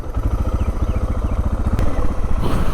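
A motorcycle engine idles and putters nearby as the bike is parked at a roadside water stop on a solo trip across America, pulsing in a steady, rapid chugging rhythm throughout.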